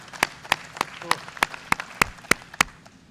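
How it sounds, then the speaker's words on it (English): Audience applause at a welcome-home gathering for UH-1H helicopter crews, heard as sparse, distinct claps in an uneven rhythm of roughly a dozen sharp slaps, fairly close and modest rather than a full ovation. "All right, a round of applause for Rob."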